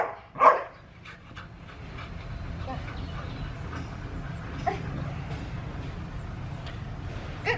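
A Border Collie gives a sharp bark or yip near the start, then a few softer sounds follow over a low background rumble as people talk nearby.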